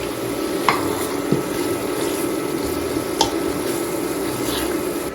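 Sliced onion added to frying masala for chickpea pulao, a steady close sizzle with occasional stirring scrapes and clinks, no talking.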